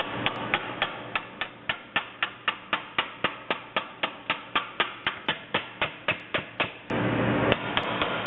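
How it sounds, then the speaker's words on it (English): Metal hammer blows on a dolly shaping a rough-cut car body patch panel on a Nomad, a fast even series of about two dozen sharp ringing strikes close up, ending in a brief noisy scrape. "I'm going to have to hammer and dolly that"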